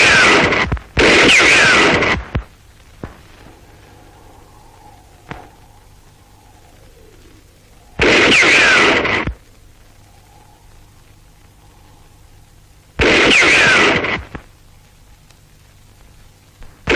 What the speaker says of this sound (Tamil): உடனே சுட்டுக் கொல்றான்.